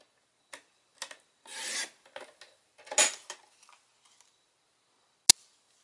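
Paper cutting on a craft trimmer, a sheet of Early Espresso cardstock sliced at one inch: a few brief dry rasping strokes and one longer scrape, then a sharp click near the end, close and otherwise quiet.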